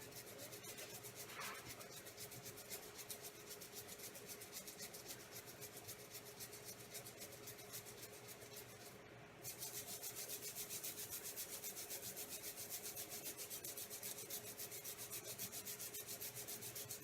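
Hands and fingers are scrubbed for surgery with a brush, a continuous close rubbing and scratching that grows louder partway through, with no talking.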